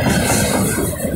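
A Norfolk Southern freight train rolls past close by, a loud, steady rumble of rail cars and wheels with faint clickety-clack, continuous throughout with no talk.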